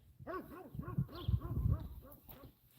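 A dog gives a run of short, whiny yelping barks, fairly close, with faint rustling behind.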